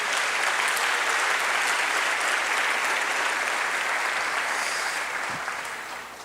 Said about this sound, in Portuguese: Vamos dar um aplauso bem forte ao Senhor Jesus.